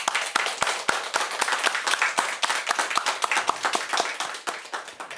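A church congregation claps loudly and close, sharp individual hand claps standing out over a fuller, ragged round of applause that runs steadily, then thins slightly at the end.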